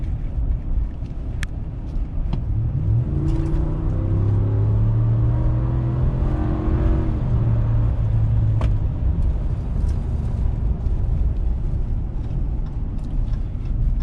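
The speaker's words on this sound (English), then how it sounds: "So again, the new Hemi pulls pretty hard" A Ram 1500 Rebel pickup's Hemi V8 accelerates hard from about 35 mph. A deep engine roar climbs steadily in pitch through the pull, heard from inside the cab, with road rumble underneath and no talk.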